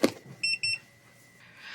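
A heating tool beeps twice in quick succession as it reaches its low-temperature threshold of 284 degrees, each beep a clear, fairly loud electronic tone in a quiet room, followed by a faint hiss.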